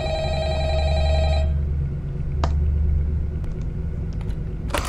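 Telephone ringing in the horror game FNAF Rewritten, a bright electronic ring sustained for about a second and a half over a low droning rumble, then cutting off, followed by scattered faint clicks and taps.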